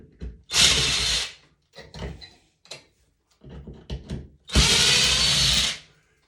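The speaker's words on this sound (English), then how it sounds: "I'm going to back out the screws for the pancake box here" A power drill backs screws out of a ceiling pancake box during a bathroom vanity light replacement, with two long loud whirring runs separated by shorter bursts, clicks and handling knocks.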